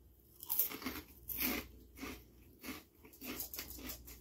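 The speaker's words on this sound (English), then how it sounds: "Let's see if they got that crunch." Crunchy pork rind nachos being bitten and chewed: a series of close, crisp crunches in an irregular rhythm of about seven bites, with soft breathing between them.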